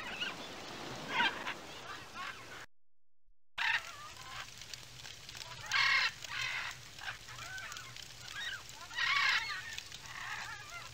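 Several birds in the game It's A Bird's Life honk and cluck together in loud, overlapping bursts, goose-like calls rising and falling over a low background hum with a brief silent gap.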